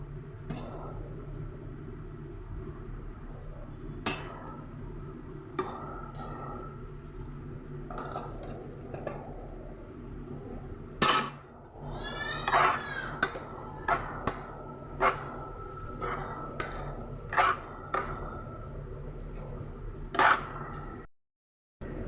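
Cooled rice being mixed for lemon pulihora in a metal vessel gives scattered, irregular clinks and scraping knocks of utensil against the pot, fairly quiet, with soft background noise between them.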